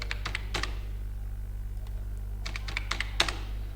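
Someone types a password on a computer keyboard, with quick bursts of close, crisp key clicks separated by a short pause.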